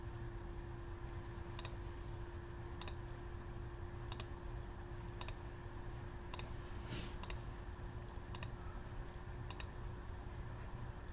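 A computer mouse clicks sharply about ten times at irregular intervals during modelling in Autodesk Inventor, faint and isolated over a steady low hum with no voices.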